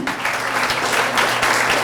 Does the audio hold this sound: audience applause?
yes